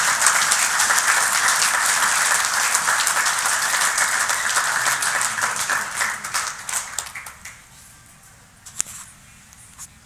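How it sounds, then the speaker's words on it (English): Audience applause for Ted Nolan at a golf tournament event, a dense wash of clapping that holds steady and loud for several seconds, then thins out and fades to scattered claps and near silence. "let's give a big round of applause to none other than Ted Nolan."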